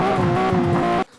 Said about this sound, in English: this is the main part of the engine sound that is, let's say, in constant loop